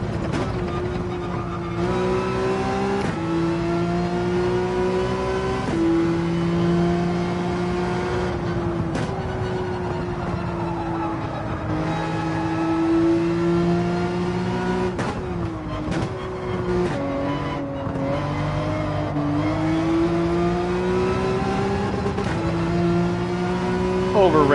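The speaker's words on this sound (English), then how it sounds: "The 911 really, the engine speaks to us." Porsche 911 engine in the racing game Gran Turismo 7, revving up and down through repeated gear shifts with a strong, rising and falling tonal howl, loud and continuous, with a voice occasionally talking over it.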